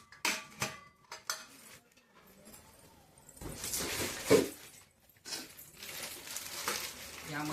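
Steel cooking pots (patele) from a household utensil set clink and clatter as they are picked up and handled at close range, with scattered metallic knocks and scrapes and a quieter pause between them.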